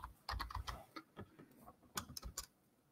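Typing on a computer keyboard, a quick irregular patter of close, crisp key clicks in short bursts separated by brief gaps.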